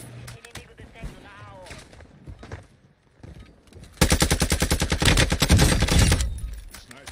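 Rapid video game gunfire bursts in from the midpoint, loud and dense, after a stretch of quieter game sounds with a voice talking.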